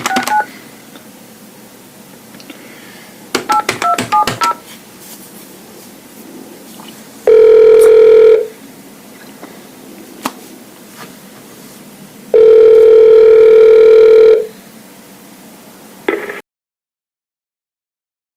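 A landline phone gives short touch-tone dialing beeps, then two long steady dial-tone stretches separated by faint background hiss, loud and close before cutting to silence.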